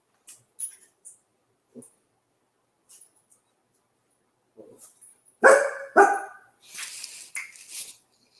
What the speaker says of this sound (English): Dog's barking again. You can hear him.